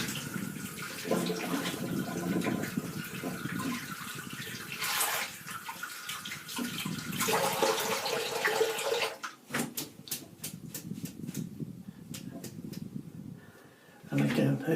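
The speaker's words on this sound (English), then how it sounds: "I'm just going to rinse my brush out." Tap water runs while a shaving brush is rinsed, a steady splashing wash beneath ongoing talk, broken by brief clicks and knocks partway through before the flow returns at the end.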